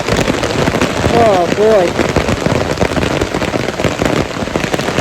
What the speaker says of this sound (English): This rain is coming down in buckets.